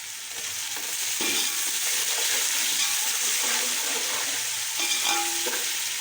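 Tomato dropped into a pan of frying potato, peas and rice masala, giving a steady loud sizzle with stirring scrapes and a few clinks of a utensil against the pan, no talking.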